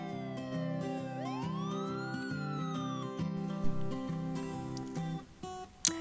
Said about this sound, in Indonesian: suara yang didengar pun akan semakin kecil seiring dengan menjauhinya mobil ambulan